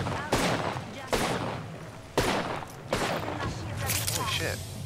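Gunfire from a weapon in Apex Legends, with several heavy shots spaced about a second apart amid ongoing game sounds and voices.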